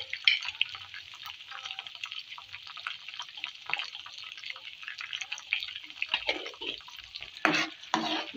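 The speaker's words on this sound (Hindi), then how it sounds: "ये मसाला हम भून लेंगे" Garlic, ginger, onion and turmeric masala fry in oil for beef paya, with a steady soft sizzle under repeated scraping and stirring strokes that grow louder toward the end, and no voices.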